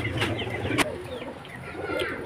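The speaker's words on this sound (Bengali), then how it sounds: "পায়রাগুলো দেখতে থাকুন" Pigeons coo in a loft, soft throaty rolling calls close by, repeating over a low background murmur.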